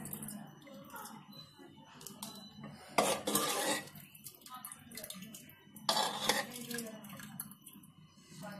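Cooked chickpeas are ladled out of a pressure cooker into a bowl for chole masala, giving light metallic scrapes and clinks of a ladle against the pot, with two louder clattering bursts amid quiet kitchen background.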